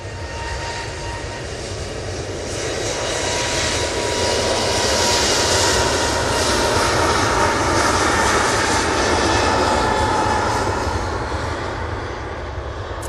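A Turkish Airlines Airbus A321neo jet departs Manchester Airport for Istanbul, its engine roar swelling loud and steady before easing slightly, with no talk over it.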